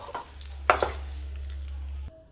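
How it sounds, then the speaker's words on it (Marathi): Bhaji batter of finely chopped onion sizzles and crackles as it is dropped into hot oil and stirred, a close, steady frying hiss over a low hum, with no talk. "आता आपण ही भजी सोडून घेऊ गॅस बारीक करू"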